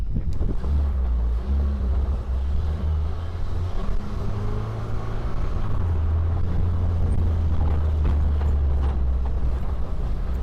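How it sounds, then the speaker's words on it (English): A Segway Super Villain off-road vehicle's engine drones low and steady as it slows under engine braking, with rumbling and wind buffeting the microphone throughout. "Is that the engine braking there?"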